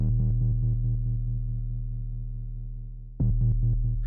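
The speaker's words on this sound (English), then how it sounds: "just a nice little bass note" A deep, smooth synthesized bass tone holds and slowly fades, then strikes again, with a faint pulsing flutter at its start.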